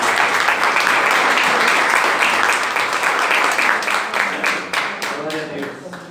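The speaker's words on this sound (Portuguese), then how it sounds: "Aplauda o Senhor Jesus." A church congregation claps together in a sustained burst of applause that gradually thins out, with voices calling out near the end.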